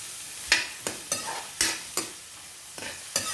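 Sautéing in a pan on a new stove for Thai pineapple fried rice: a constant sizzle broken by about eight sharp, close spatula scrapes and clanks at an uneven pace, no talk.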